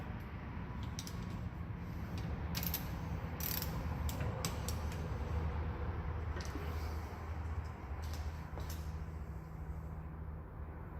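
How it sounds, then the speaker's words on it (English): A ratchet clicks in quick, irregular bursts while tightening bolts on the rear brakes of a Ford F-150, close and fairly quiet over a steady background hum, with no one talking. "Now these I just tighten up with a ratchet."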